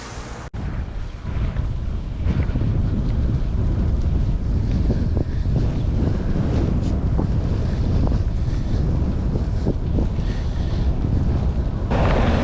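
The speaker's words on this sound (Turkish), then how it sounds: "Bugün çok fazla rüzgar var." Strong wind roars and buffets the microphone continuously on a road to Balaban village, Turkey, a heavy, rumbling rush with gusty fluctuations and no voices.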